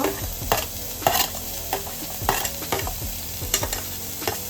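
Chopped onion, tomato and curry leaves fry in a pan for a Malvani potato and drumstick bhaji, with a steady sizzle broken by repeated spatula scrapes and stirs at an irregular rhythm, close and clear, with no talking.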